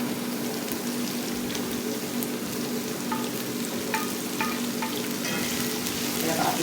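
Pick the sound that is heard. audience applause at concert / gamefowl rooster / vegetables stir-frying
vegetables stir-frying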